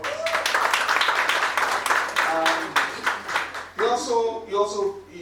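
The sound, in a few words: audience applause for regional director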